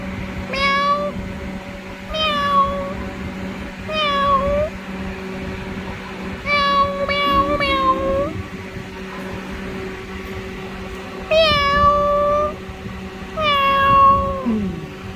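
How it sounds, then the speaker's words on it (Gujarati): A kitten meows repeatedly in short, high, close bursts, with pauses between them, over a steady low electrical hum. "અમને બહુ ગમ્યું બિલાડીનું બચ્ચું"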